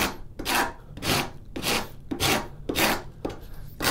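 A heavy duty cabinet maker's rasp files wood on a straight razor build, six loud, rhythmic rasping strokes close to the microphone with short pauses between them.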